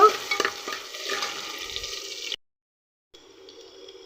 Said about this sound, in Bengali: এই যে তেলটা গরম দিছি এর ভিতরে আমি দিয়ে নেবো পেঁয়াজ কুচি